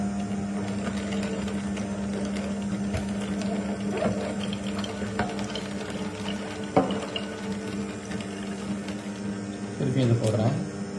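An electric juicer runs with a steady droning motor hum and watery churning, continuous and fairly close, with a louder rise near the end and a voice talking now and then.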